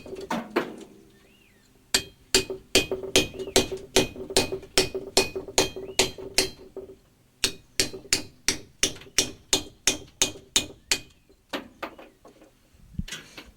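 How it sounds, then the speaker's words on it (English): A big chisel struck repeatedly against a carving, a long run of sharp, evenly spaced hammer blows with a brief pause midway and ringing metallic clinks, close and loud with no talking. "I'll use the big chisel and I'll just hack away at it"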